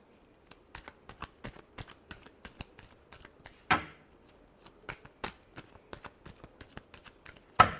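Tarot cards shuffled by hand in a quiet room, a rapid string of soft papery riffles and taps with two sharper snaps of the deck standing out, close and clear with no talking.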